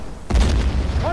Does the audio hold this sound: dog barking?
no